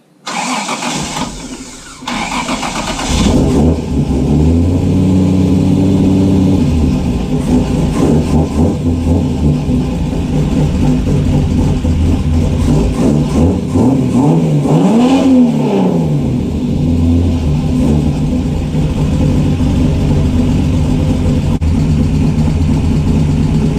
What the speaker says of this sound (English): Now that we've put the starter motor back in, I guess we better do a test fire and end it there.